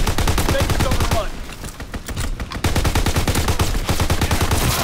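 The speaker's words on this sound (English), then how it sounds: "Enemy strafing run inbound." Enemy aircraft strafing run in a WW2 shooter game: loud, dense rapid-fire gunfire with a brief lull, then resuming in fast, continuous bursts.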